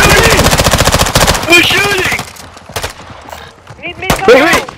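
Rapid automatic gunfire in the video game Call of Duty, loud bursts of fast shots followed by scattered single shots, with people talking and shouting over it.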